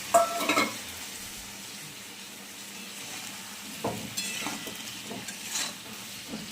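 Vegetables frying lightly seasoned with turmeric, cumin and salt while a spatula stirs the pan, a soft ongoing sizzle with a few scraping strokes near the start and end.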